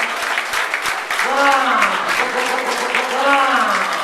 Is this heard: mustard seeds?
no